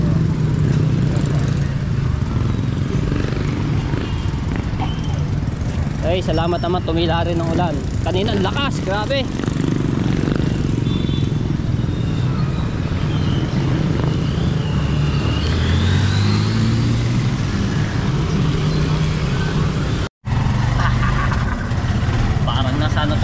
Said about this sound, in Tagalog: Kaya tayo sa tricycle ngayon